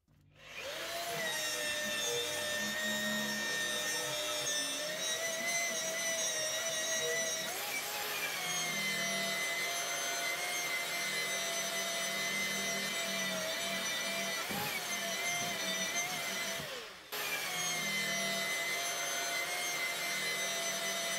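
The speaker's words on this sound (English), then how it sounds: "The Vevor 4-inch burnishing tool did awesome, took all of our mill scale away really fast." A Vevor 4-inch burnishing tool strips mill scale from metal with a steady, loud whine that holds for most of the span, its pitch dipping briefly a couple of times as the tool bites in, with no talk.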